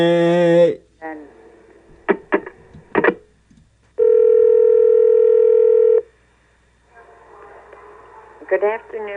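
A steady telephone dial tone holds for about two seconds, framed by a voice speaking in bursts before and after, with brief tonal beeps near the start.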